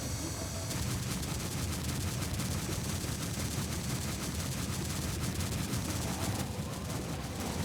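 Gunfire from a vehicle-mounted weapon in the VR shooter game Gungrave VR, firing as dense, continuous rapid shots without a break at a steady loudness.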